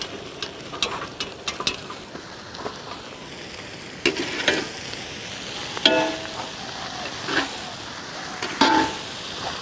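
Goat intestine boti frying with crushed ginger and garlic, a constant close sizzle broken by scattered stirring clinks and scrapes at irregular intervals.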